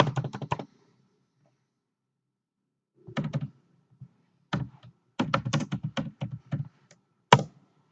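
Typing on a computer keyboard in short bursts of close clicking keystrokes separated by silent pauses, with no other sound.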